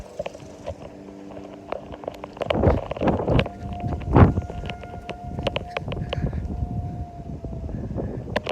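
A civil defense tornado siren sounds in a steady, sustained tone through most of the span on a Wednesday at noon, heard outdoors under wind noise and scattered knocks and thumps.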